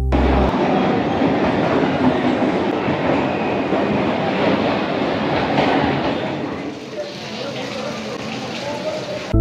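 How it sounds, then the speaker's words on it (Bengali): An Up Majerhat–Habra local train rolls into platform 1 at Kolkata station with a loud, steady rumble and wheel clatter that eases slightly near the end. "1 নম্বর প্ল্যাটফর্মে ঢুকছে আপ মাঝেরহাট হাবড়া লোকাল"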